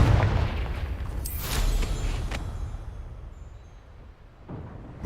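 Confringo fire spell in Hogwarts Legacy going off as a deep booming blast, then a second sharp burst, with a long rumbling decay between and after them, no voices.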